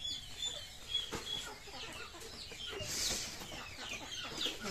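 Young chicks on a farm being given a milk-based vaccine chirp in high, faint, scattered peeps, with a few louder calls, amid soft rustling and background farm noise.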